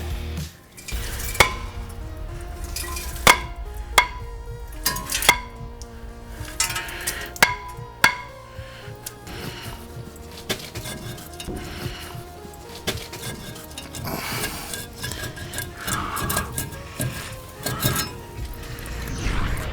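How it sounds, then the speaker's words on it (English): A hammer strikes a rusted brake rotor on a Ram 2500 Cummins diesel truck in sharp metallic clanks, one after another, with bright tones lingering after each strike, over a steady noisy background. "we're going to have to beat this with a hammer"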